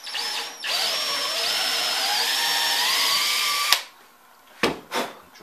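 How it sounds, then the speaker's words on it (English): A power drill bores a bolt hole while building a dolly, a loud whining spin of about three seconds that stops abruptly, followed by a couple of short clicks and knocks. "Drill my next hole."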